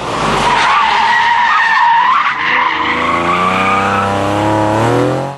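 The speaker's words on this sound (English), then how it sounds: "they just had to get in on the action with some of their tasty handbrake turns" Car tyres skid and squeal loudly through handbrake turns at a modified-car show, a continuous screech with rising and falling pitch and an engine note beneath, close and sustained.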